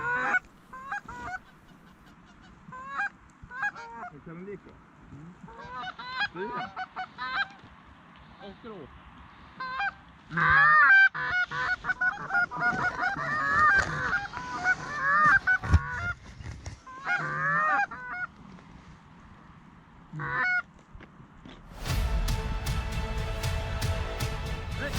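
Greylag geese honk repeatedly in loud, overlapping bursts, a flock calling close by during a goose hunt in Sweden, with a harsh noisy rush near the end.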